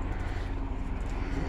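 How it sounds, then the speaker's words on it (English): A steady low engine drone of a helicopter passing overhead at dusk with its light on, continuous and moderately loud with no voices. "There goes the helicopter."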